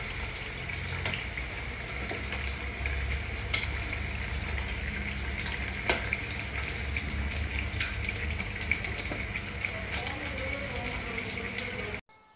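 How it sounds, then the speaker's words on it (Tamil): Pre-fried chicken pieces frying in a pan for chicken biryani while being stirred: a steady, close sizzle with scattered scraping clicks throughout. "சிக்கனை நம்ம அதில் போட்டு 10 நிமிஷம் நல்லா கிண்டி விட்டு 10 நிமிஷம் குக்கிங் ஆகி வரட்டும்."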